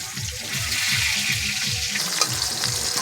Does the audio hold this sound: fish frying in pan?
yes